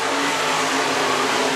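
Bomber and SportMod race cars roar around Worthington Speedway during a heat race. A dense, loud engine drone holds steady with no pauses and no speech.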